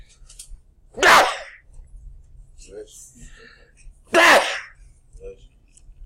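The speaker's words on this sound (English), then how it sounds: "got to sneeze" Two loud, sharp sneezes a few seconds apart, close by, with quiet breathy sounds and faint background hum between them.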